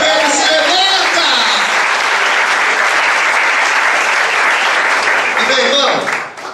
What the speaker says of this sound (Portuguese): Dá um aplauso a Jesus, porque Pedro se levanta.